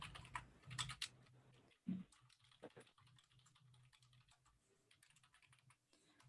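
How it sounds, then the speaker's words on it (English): Keys clatter on a computer keyboard as an address is typed, quiet, close bursts of quick clicks with short pauses between them, no talking. "I go over to Google Images and I type in my address"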